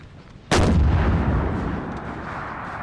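A single heavy artillery blast in Napoleon Total War, a sudden loud boom that rolls into a long, fading rumble of battlefield noise.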